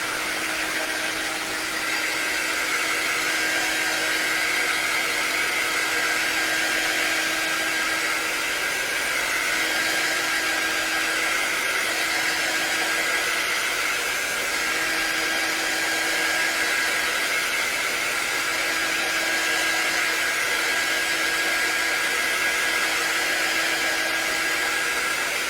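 A dryer blows steadily to dry an ocean-inspired craft piece, a loud continuous whirring hum that holds unbroken for the whole stretch with no talking over it.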